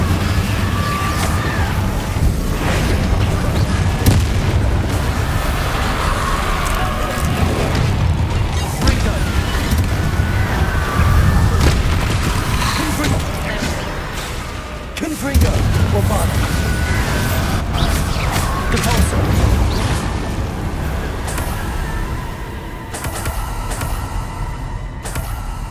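Incendio fire spell cast again and again in Hogwarts Legacy during a fight against Inferi, with booming blasts and crackling bursts over a steady rumble and dense combat noise. A voice calls out spells throughout.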